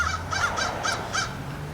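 Crows give about five harsh caws in a steady rhythm while a merlin mobs them, loud and fairly close, heard over a constant low rumble outdoors during a winter bird count.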